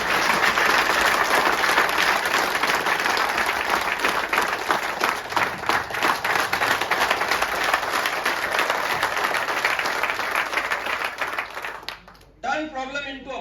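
A seated audience at a youth leadership talk bursts into loud, sustained clapping that runs for about twelve seconds, then cuts off abruptly as a voice begins speaking.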